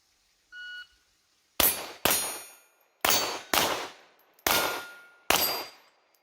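A single electronic timer beep, then six loud pistol shots in quick pairs and singles, each with a bright metallic ring from steel targets decaying afterward, with no voices.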